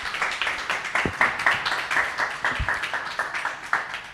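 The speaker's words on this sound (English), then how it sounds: "Let's give Wendy a round of applause" Small audience applause for a speaker at a civic democracy gathering, a light, fairly quiet spatter of individual claps lasting a few seconds.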